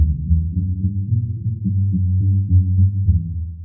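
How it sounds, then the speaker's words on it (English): Low end of a bass in FL Studio, mids and highs switched off and the signal collapsed to dead-center mono: a steady, deep droning bass line with gently shifting notes, continuous and fairly loud, with no talking. "here's what the low end of the bass sounds like."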